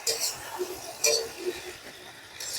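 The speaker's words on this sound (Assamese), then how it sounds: "এতিয়া মই ঢাকি দিছোঁ।" A lid set onto a cooking pot while potatoes and leafy greens cook in an Assamese kitchen, giving a couple of light metallic clinks spaced apart, close by and fairly soft, with no talking.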